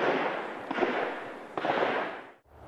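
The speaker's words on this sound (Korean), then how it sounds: "공사장에 주기적으로 총소리가 울립니다" Gunfire from a police special forces shooting range beside a park construction site, heard as a few loud, broad cracks with rolling reverberation, one near the start, another around 0.7 s and a third near 1.6 s, each followed by a sustained echo.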